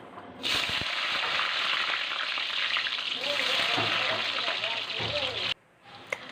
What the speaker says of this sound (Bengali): এবার আলুগুলো আমি ভেজে নেব দিয়ে দেব আলুগুলো